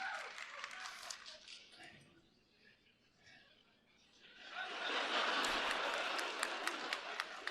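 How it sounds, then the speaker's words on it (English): Faint, thin clapping and cheering from a small crowd of about ten people at a debate event, dipping quiet in the middle before swelling again. "that was like 10 people cheering and clapping"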